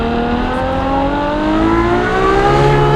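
A Ferrari F12berlinetta's V12 engine accelerating hard on a mountain pass, a loud, close, high-pitched scream whose pitch climbs steadily through the rev range and then drops slightly as a gear is taken.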